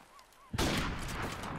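A sniper rifle shot in the video game Modern Warfare Remastered: a single sudden, loud crack after a quiet lead-in, followed by a long, rumbling decay that fills the rest of the moment.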